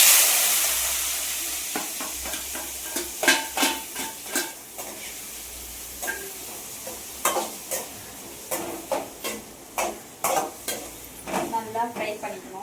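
Chopped tomato, onion and green chilli sizzle in a pan while a spatula scrapes and clacks against the metal in a steady series of stirring strokes, close and clear over the constant frying hiss.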